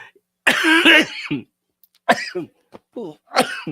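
A few harsh, throaty coughs in short bursts separated by silence, close and fairly loud.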